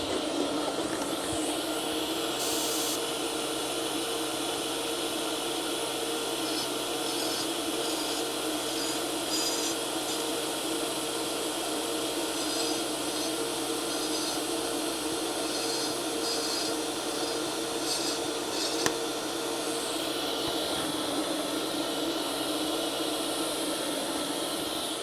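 An R Tech TIG 160FPP welder set to slow pulse gives off a steady, fairly quiet electric hiss and buzz with thin high tones running throughout, and no one speaks.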